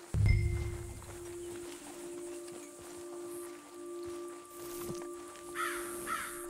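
Scavenger birds caw in Red Dead Redemption 2, a few harsh crow-like calls at a moderate distance over a quiet outdoor ambience with light rustling and a held background tone.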